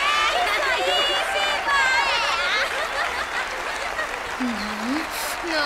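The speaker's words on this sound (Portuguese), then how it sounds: "Aplausos pro número dois." Applause from an animated cartoon audience at a fashion contest, dense clapping with excited voices and cheering mixed in, with a brief sliding tone near the end.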